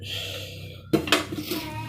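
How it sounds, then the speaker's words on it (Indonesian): Ketapang leaves go into a metal pot with a sharp clatter and a few quick metallic knocks and rattles, close and clear after a quiet start. "masukkan ketapang ke dalam panci."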